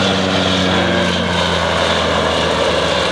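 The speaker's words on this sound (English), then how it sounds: "I think this counts as a fast pass by the Antonov. Yep, fast downwind pass." An Antonov An-2 biplane makes a fast downwind pass at Kemble airfield, its propeller and radial engine giving a loud, steady drone that holds throughout without any talk.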